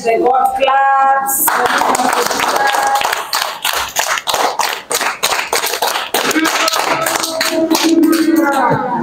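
Hands clap in a rapid, uneven burst of sharp slaps that runs for several seconds at close range, with voices heard at the start and end.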